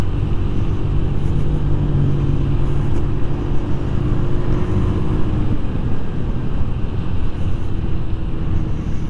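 Genuine Buddy 170i scooter riding in traffic, a loud steady engine drone with rumble and wind, constant and close from start to finish.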